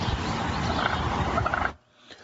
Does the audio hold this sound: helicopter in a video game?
no